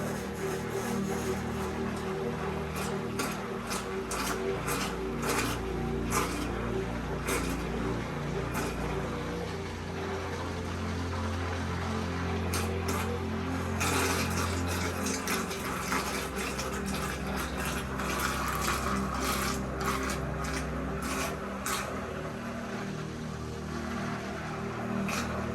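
Homemade hyaluronic acid serum mixture being blended, a steady liquid churning and sloshing throughout with bubbly watery texture and repeated brief clicks, loud and continuous with no talking.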